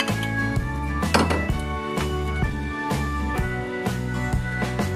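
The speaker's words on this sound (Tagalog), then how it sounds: "Haluin ko muna para matunaw." A spoon scrapes and clinks against a metal pot while pork caldereta with liver spread and melting cheddar cheese is stirred, giving repeated bright metallic taps and rattles in an uneven rhythm, close and clear.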